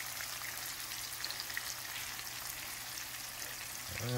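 Homemade chicken patties fry in a pan with a soft, steady sizzle and scattered crackles, fairly quiet and continuous, ending with a brief clatter.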